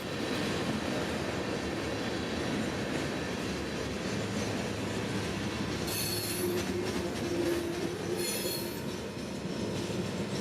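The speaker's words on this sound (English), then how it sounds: "We set up just north of the Lakeland connection to watch the train turn toward Vitus." A long freight train rolls past just north of a rail junction in Central Florida, a steady loud rumble of wagons with intermittent high wheel squeal partway through, no talking.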